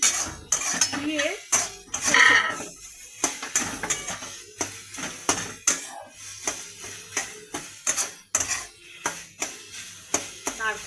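A metal spoon stirs grated coconut into khichdi in a pot, giving repeated close clinks and scrapes against the metal in an uneven rhythm over a long stretch, with a voice talking now and then.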